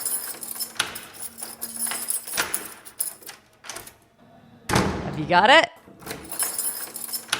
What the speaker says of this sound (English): If you guessed a door being unlocked, you're spot on.